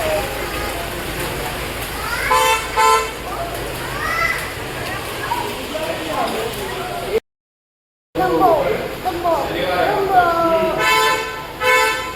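Short vehicle horn toots sound a few times as a vehicle approaches along a village road, mixed with children playing and people talking close by.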